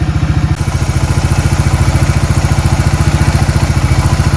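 A 1994 Suzuki QuadRunner ATV idles close up, its single engine putting out a fast, even, loud chugging pulse with mechanical clatter, alone and unrevved.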